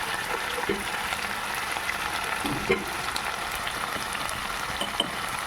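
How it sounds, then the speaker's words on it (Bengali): Prawns frying together with onions in a pan, a dense steady sizzle with light scattered stirring taps and small pops throughout, no talking. "এবারে আমি চিংড়ি মাছগুলো দিয়ে দেবো, দিয়ে পেঁয়াজের সাথে একসাথে ভাজবো।"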